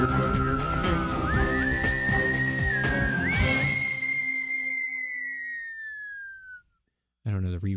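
A person whistles a sustained melody over a busy musical backing, the whistle held and fading with reverb, followed by silence and then a voice.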